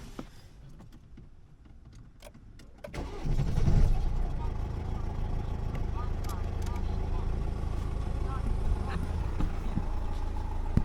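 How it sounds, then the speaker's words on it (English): A Vauxhall Crossland X engine catches after about three seconds of quiet, then settles into a steady, fairly loud running drone that continues to the end. "I'll start the car again"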